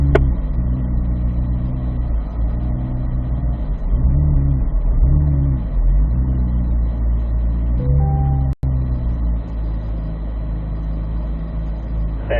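Car engine revving through a figure-8 driving run, a loud close engine note rising and falling in repeated swells, with gear shifts and a brief abrupt dropout near the end.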